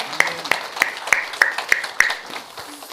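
Steady, rhythmic clapping from a church congregation, sharp claps falling evenly about three times a second, with faint voices underneath.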